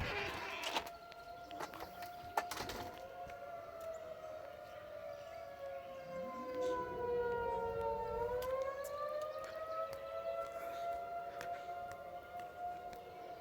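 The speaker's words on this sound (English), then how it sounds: "Then the sirens are going to go off." A tornado civil defense siren sounds during its monthly test in Rolla, Missouri, a nearby wailing tone that sweeps down and back up in pitch, steady and prominent over faint background clatter.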